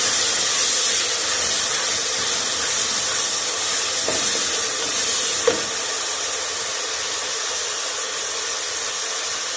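Onions and masala fry in a pan for a cauliflower and meat curry, giving a loud, continuous hissing sizzle with a couple of faint clinks partway through and no talking.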